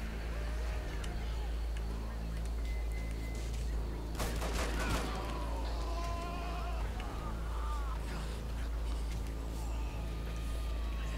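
Rapid, sustained gunfire from the video game Hatred crackles in a dense burst midway through, over a steady background drone with scattered high-pitched game effects.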